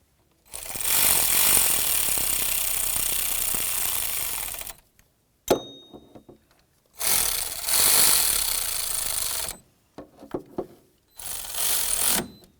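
A ratchet snugs up the mounting bolts on a serpentine belt tensioner of a 2000-2005 Buick LeSabre, in three bursts of rapid, close clicking separated by short pauses and small knocks.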